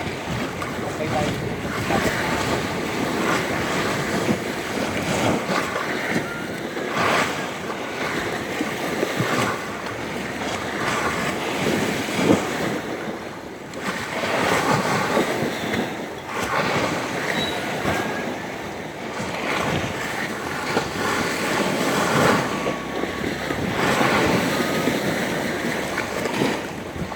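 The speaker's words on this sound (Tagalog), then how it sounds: "Lakas ng dagat." Strong sea waves surging and washing in repeated swells, mixed with steady wind noise and boat sounds, loud and close throughout.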